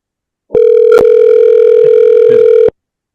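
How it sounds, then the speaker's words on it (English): A telephone rings on an outgoing call, a steady continuous ringback tone lasting about two seconds, loud and close, with no talking over it. "you should be hearing the phone ringing in a few seconds"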